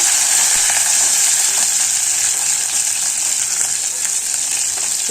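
Chopped curry leaves frying in a pan give a loud, continuous, close sizzle and crackle that holds steady throughout.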